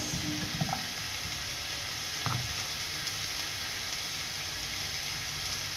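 Ginger, garlic and onion sautéing in a pan for ginataang gulay, a steady low hiss of frying with a couple of soft stirring knocks, no one speaking.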